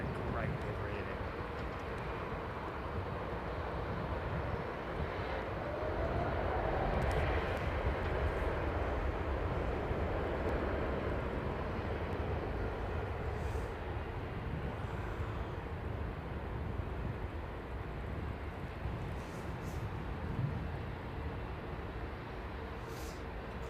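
At London Heathrow Airport a jet aircraft roars as a broad, sustained rumble that swells and fades over about twenty seconds, heard at a distance beneath ongoing conversation.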